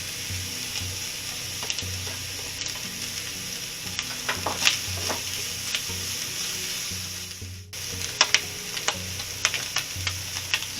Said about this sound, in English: I'm going to get this corned beef in here and warming up.